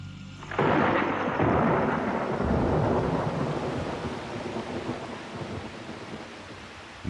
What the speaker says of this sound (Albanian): Në errësirën e natës, musoni ka mbritur edhe në Rajasthan.